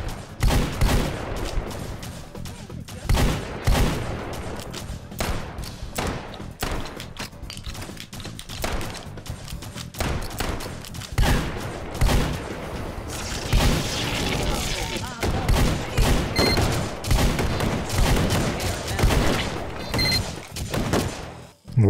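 Rapid bursts of gunfire in the VR shooter H3VR, sharp repeated shots and booms of varying loudness packed close together, with a voice talking over parts of the firing.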